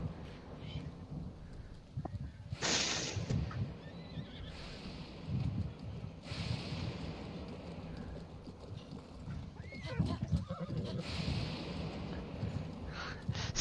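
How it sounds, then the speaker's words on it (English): A dying horse in a video game whinnies loudly several times, with thunder rumbling, rain falling and hooves clip-clopping throughout a stormy scene. "the horse is dying!"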